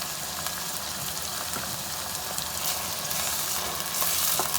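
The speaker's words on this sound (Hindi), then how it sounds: "इसको भून लेते हैं" Beef frying in a karahi with ground ginger and garlic, a steady bright sizzle with crackling spatter that swells slightly toward the end, no voices.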